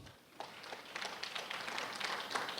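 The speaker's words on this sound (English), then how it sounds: "Let's give Lieutenant General a round of applause" Audience applause at a talk on ombudsman roles in conflict resolution and military oversight, a broad wash of many hands clapping that swells after a brief quiet start and carries on steadily, moderately distant.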